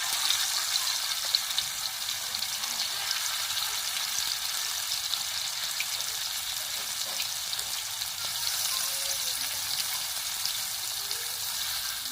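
Tilapia fish pieces frying on a flat griddle pan, a continuous even hiss of hot oil with faint crackles, steady and close with no talking.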